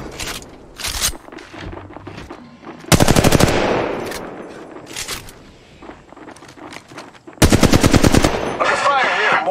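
Rapid automatic gunfire in Apex Legends Mobile, loud close bursts of machine-gun fire separated by quieter stretches of footsteps and scraping, with a final sustained burst.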